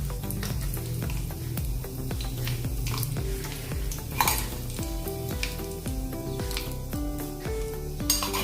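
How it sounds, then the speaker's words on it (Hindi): Hot tempering of mustard seeds, cumin and curry leaves poured over soft idli, crackling and sizzling over the full stretch, with clinks and scrapes of a pan and spoon close by. "एक जो तड़का है हम इसके ऊपर ऐसे डाल देंगे।"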